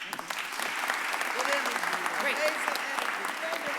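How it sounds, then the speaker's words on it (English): A room full of people at a mayor's press conference claps steadily, a dense patter of applause at moderate distance with a few voices heard under it. "let's give everyone a round of applause"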